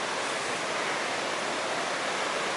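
Rushing water from Millseat Creek near the Volta Powerhouse in Shasta County, California, a loud, steady broadband roar close by with no voices.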